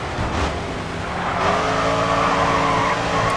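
A race car in GRID 2 drifts hard, its tires squealing in a long, loud, sustained screech over a roaring engine, with no voices.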